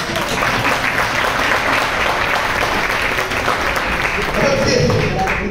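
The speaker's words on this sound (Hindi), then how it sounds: "एंकर के लिए कुछ तालियां बजा दो" Steady, loud applause from an audience at a grand product launch event, dense clapping sustained throughout with a voice briefly audible over it.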